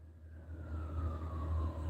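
Faint police siren wailing at a distance, with a slowly falling tone over a low rumble of traffic.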